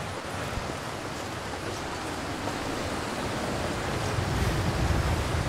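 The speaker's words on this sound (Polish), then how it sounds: "I ten wiatr akurat wieje od tej strony." Wind blowing across a snowy outdoor landscape in the survival video game The Long Dark, a dense continuous roaring gust that holds steady and builds slightly toward the end, with no talking over it.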